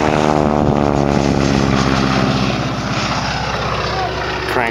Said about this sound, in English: Here comes a yellow biplane, the Stearman,